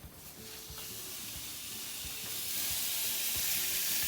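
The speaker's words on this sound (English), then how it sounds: "we're gonna go ahead and fry up this bacon" Chopped bacon frying in a pan, a soft continuous sizzle and hiss that grows louder partway through, with faint occasional taps underneath.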